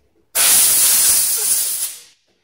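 Compressed air blown through a 4L60E transmission pressure regulator valve during a rebuild, a single loud, steady hiss of about two seconds that starts abruptly and fades at the end.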